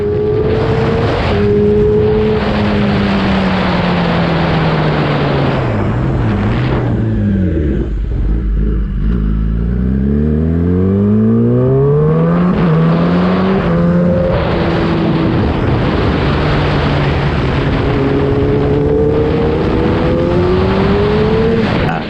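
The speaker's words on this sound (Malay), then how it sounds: "So jom kita test motor ni, dan sambil tu abang akan buat review guys" A Kawasaki motorcycle engine revs continuously and loudly on a test ride, pitch rising and falling through repeated throttle changes and gear shifts, close by with no talking.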